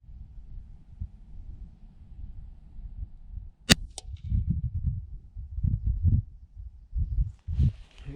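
Air rifle shots fired at a target 40 yards out: one sharp crack, then a second quick snap, with low handling noise and rustling around them outdoors.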